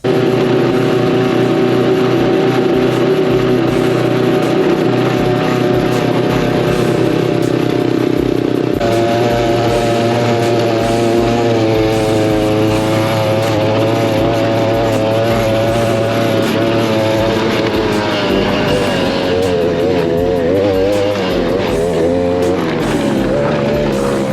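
A 2-stroke scooter powered by a chainsaw engine rides on an asphalt road. The buzzing engine runs loud and continuous throughout, its pitch climbing and wavering as it revs up to speed.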